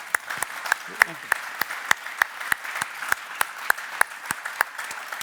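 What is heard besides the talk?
audience applause for conference panelists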